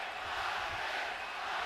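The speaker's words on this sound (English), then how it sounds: "Crowd is chanting Marquez, Marquez, Marquez, trying to get their star started early." A large arena crowd at a boxing match roars in a steady, dense wash of voices, a sustained chant for Marquez at the Timothy Bradley vs Juan Manuel Marquez fight, loud and continuous throughout.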